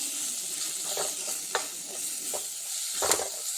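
Spiced egg curry with chilli and coriander powder is stirred in a sizzling pan, a steady frying hiss broken by a few soft scraping strokes of the spoon, close by and with no talking.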